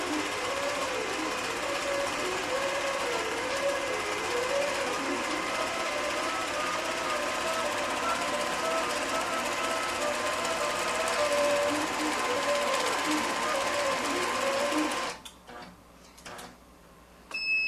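A longarm quilting machine runs steadily, stitching a pantograph pattern across a quilt with a continuous mechanical whir and rapid ticking, its speed adjusted partway, before cutting out near the end to quieter room sound.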